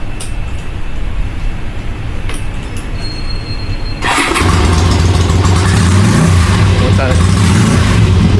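A Honda CB650R motorcycle engine rumbles nearby, quieter at first and then running louder and rougher at idle halfway through, with people talking over it.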